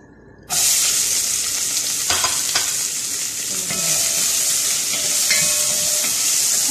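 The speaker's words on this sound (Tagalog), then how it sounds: "Mainit na mantika natin. Lagyan na ang sibuyas." Onions hit hot oil and burst into a loud, steady sizzle that continues throughout, with occasional scraping and stirring clatters over the hiss.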